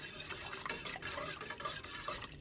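A spoon scrapes and swirls through a lemon, pectin and sugar jelly mixture in a pot, a continuous close rasping and rubbing sound with a faint sizzle-like texture.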